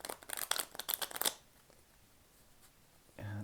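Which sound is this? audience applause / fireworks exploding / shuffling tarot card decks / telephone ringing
shuffling tarot card decks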